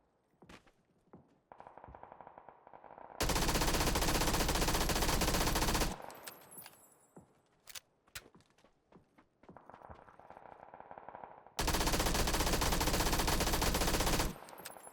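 Hipfire bursts from an SMG in PUBG, two long loud sustained volleys of rapid automatic fire separated by scattered shots, footsteps and handling noise.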